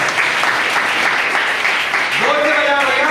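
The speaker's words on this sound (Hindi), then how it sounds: "जोसेफ दास के लिए सब लोग ताली बजाएंगे" A congregation at a preaching gathering in Bengal claps in steady, loud applause, while a voice rises over it toward the end.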